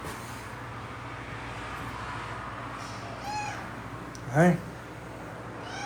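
A pet cat meows indoors in a couple of short, rising calls, the louder one near the end, over a low steady hum while someone speaks softly.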